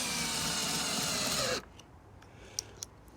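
A power drill drives screws into a Hayward sand filter dial, whirring steadily for about a second and a half before stopping, followed by a couple of faint clicks.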